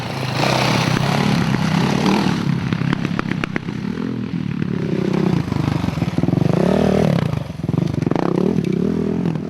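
A dirt bike passes during a 24-hour reliability trial, its engine loud and close with revving and clattering over rough ground, rising and falling in pitch as it rides by.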